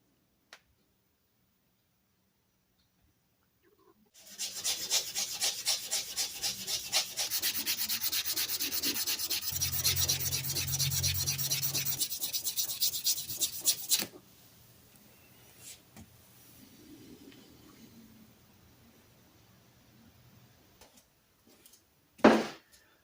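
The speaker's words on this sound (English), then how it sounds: "Let's get these screws ready for plating. A little bit of polishing." Rusty Millers Falls hacksaw screws polished by hand before plating: about ten seconds of brisk, rhythmic rubbing strokes, close and fairly loud, followed by quieter scattered handling sounds and a sharp knock at the end.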